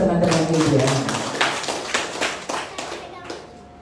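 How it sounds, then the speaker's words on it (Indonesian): An audience at a Nasdem party anniversary event in Merauke applauds the media, producing a brief wash of scattered hand claps that thins out over a few seconds, with some voices mixed in. "Mari kita beri tepuk tangan untuk teman-teman media."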